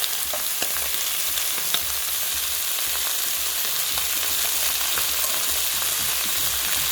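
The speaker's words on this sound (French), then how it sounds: "je remets ma viande. Je laisse rissoler." Beef pieces browning in hot oil for a beef and potato stew give a continuous crackling sizzle with scattered pops, fairly loud and close, with no talking.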